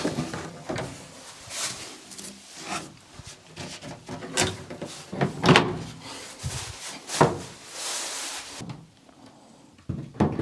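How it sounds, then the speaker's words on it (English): Wooden doors being fitted in place during a coach house restoration, heard as a series of close knocks, thuds and scraping bumps in uneven bursts, then a brief quieter gap near the end. "Just need to put the doors and it's done."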